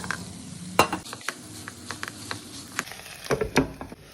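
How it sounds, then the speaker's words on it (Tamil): Ground masala and ivy gourd fry in oil in a kadai, with a soft sizzle beneath irregular clinks and scrapes of a spoon stirring, close and fairly quiet. "கடுகு வெடித்தோடனே அரைச்ச மசாலாவை போட்டு நல்லா வதக்கிங்கோ"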